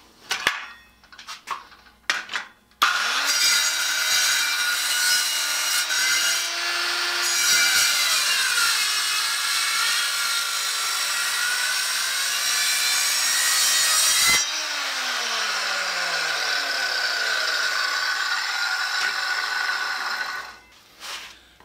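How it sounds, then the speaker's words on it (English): A Sears Craftsman 7-inch electric hand saw, model 31, biting into a thick chunk of white oak: a few short bumps, then a loud sustained whining cut lasting about twelve seconds, easing briefly before a second steady stretch that winds down. "A good sharp blade cut 2¼ inches into that white oak."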